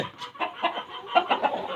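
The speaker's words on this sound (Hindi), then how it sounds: "ये इंतहाई शैतान मुर्गा" Aseel rooster on a farm giving a run of short, close clucks in a quick, uneven rhythm, loud and clear with no talking over it.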